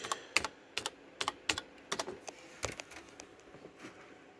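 Quick, light clicks of keys tapped on a computer keyboard, close and fairly quiet, coming in short irregular bursts with small gaps and no voices.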